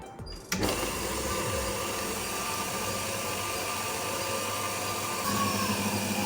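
An electric hand mixer whirs steadily, beating red velvet cake batter in a bowl, starting with a brief clatter and then running continuously at an even, fairly loud pitch.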